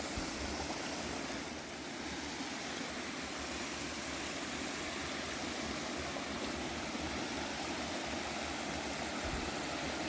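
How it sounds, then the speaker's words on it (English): Steady, dense rush of a waterfall fills the scene on the Appalachian Trail in Tennessee, a constant roar at fairly close range with no voices. "Just another beautiful waterfall this morning."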